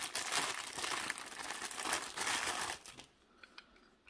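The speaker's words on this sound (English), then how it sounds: "comes in this plastic bag." Plastic bag crinkles up close, a busy crackling that lasts almost three seconds before dropping to a few faint rustles.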